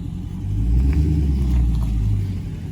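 A Dodge Challenger Scat Pack's engine revs up as the driver floors it in track mode, with a deep rumbling roar that swells and holds for a couple of seconds before easing slightly.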